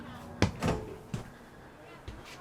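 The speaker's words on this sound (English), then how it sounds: "First, I'm going to show you this bear resistant entry door." A bear-resistant entry door on a 2026 Tiffin Open Trail 25 AO RV opens and closes with several sharp knocks and thuds, fairly quiet.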